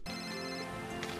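A phone rings in a room, a steady electronic ringtone with sustained tones repeating throughout, fairly loud and close, with no talk over it.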